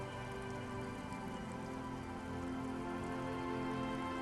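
Rain drips from elm branches in the video game Disco Elysium, a dense, even patter of drops over a steady ambient hum, continuous and fairly soft.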